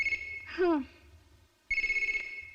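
A telephone rings with blank calls in a Kannada film scene. Short, bright electronic ringtone bursts are separated by a quiet gap, heard close by with no talk over them.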